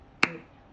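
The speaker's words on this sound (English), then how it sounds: "ready and clap" A single sharp hand clap marks the start of a rhythm-counting exercise in 3/4 time, one crisp close transient standing alone in a quiet room.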